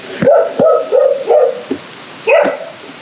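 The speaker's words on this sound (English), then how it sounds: "Crazy dog." A dog barks in a quick run of five sharp, close barks, then pauses and gives one last bark, with steady background noise underneath.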